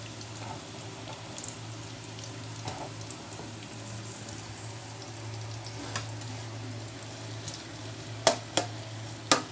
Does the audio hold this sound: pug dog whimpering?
no